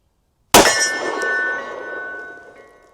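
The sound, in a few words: bullet from 500 JRH 340 gr round hitting steel target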